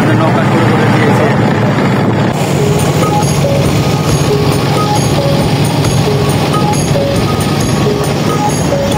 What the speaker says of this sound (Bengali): আমাদের নৌকা শুরু করে দিয়েছে।